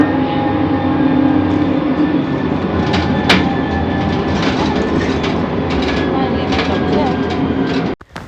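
Steady rumble and clatter of a tram ride in Istanbul on a very hot day, loud and continuous from inside the car, with rail noise throughout and a sharp clunk near the end.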